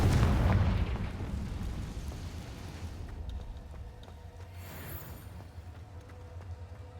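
A Confringo blasting spell detonates in a Hogwarts video game, a heavy, close explosive boom that decays into a long rumbling tail with faint crackles.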